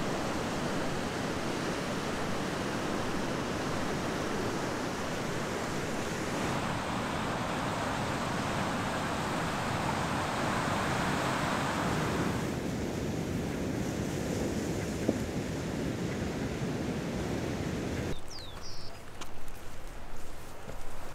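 Ocean surf rolls in continuously at Punta de Lobos near Pichilemu, a broad, loud wash of breaking waves mixed with gusting wind buffeting the microphone, easing near the end with a few scuffs.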